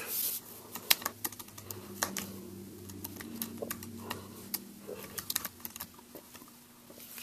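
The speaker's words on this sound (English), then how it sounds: "I've got my Apple Bluetooth keyboard." Typing on an Apple Bluetooth keyboard paired with an iPad, a quick irregular run of light plastic key clicks with occasional louder taps over a faint low room hum.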